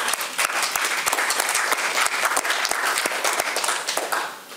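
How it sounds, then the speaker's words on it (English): A room at a city press briefing breaks into applause after a transit strike is announced, with dense, lively clapping at a steady level that tapers off toward the end. "Let's give that a round of applause."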